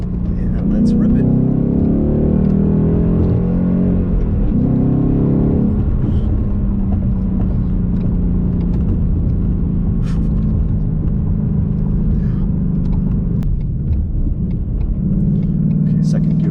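A Ford Mustang GT engine roars steadily and loud, its pitch dipping and climbing as it pulls hard through gears after a downshift to second, with wind and road rumble underneath.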